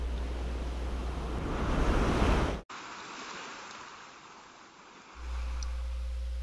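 A steady, loud roar of surf crashing against vertical cliffs on the California coast, broken by a sudden cut to quieter rushing water before the heavy roar returns.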